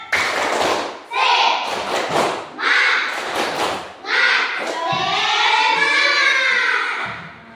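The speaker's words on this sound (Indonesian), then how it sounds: "Ya, sekali lagi ya. Tepuk semangat." Children repeat a rhythmic spirit clap in a group, patterned clapping and thuds mixed with loud chanted voices and shouting, close and lively throughout.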